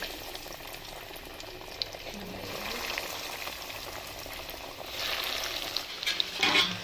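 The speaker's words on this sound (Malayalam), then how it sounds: "നമുക്ക് കട്ട്ലറ്റ് ഓരോന്ന് എണ്ണയിലേക്ക് ഇട്ട് കൊടുക്കാം" Chicken cutlets fry in hot oil with a steady, quiet bubbling sizzle that swells a bit louder near the end.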